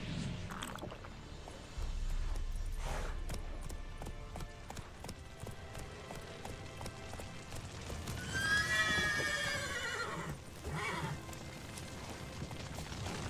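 A horse whinnies loudly and clip-clops in The Witcher 3, hooves thudding over a low ambient game soundscape with a long neigh rising mid-clip.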